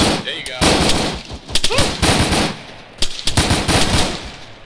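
Bursts of automatic rifle and machine-gun fire crackle through a tactical ARMA 3 firefight, loud and repeated in rapid volleys while team members talk over radio throughout.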